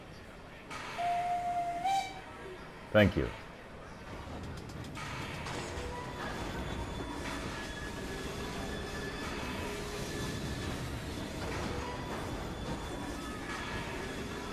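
A steam hideout train rolls along in Assassin's Creed Syndicate, its steady rumble and rail clatter continuous throughout, with a brief sharp clank near the start and a short whistle-like tone, while someone talks briefly over it.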